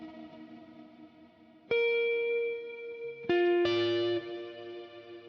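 Sustained guitar notes and chords run through a PLEX-verse reverb effect on a Fractal FM3, FM9 or Axe-Fx III, each new chord entering sharply and ringing out with a shimmering, lingering tail.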